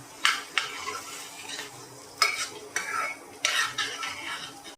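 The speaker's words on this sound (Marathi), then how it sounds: "गॅस जरा हळू करा आणि हे चांगलं परतून घेऊया." Spice mixture sautéed on low heat for dried bombil fish masala, a spoon scraping and stirring in bursts over a gentle sizzle, close and fairly quiet.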